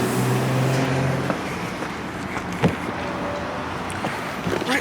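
Ryko Monarch II automatic car wash at a Sinclair gas station in Ogden, Utah, running with a steady broadband wash of spray and machinery, a low droning hum early on, and a few sharp knocks and clanks over the continuous noise.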